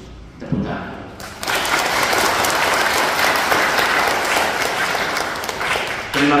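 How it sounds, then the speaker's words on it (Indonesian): A church crowd breaks into loud, sustained applause for children receiving First Communion, swelling after a brief pause and holding steady before ending abruptly. "Tepuk tangan."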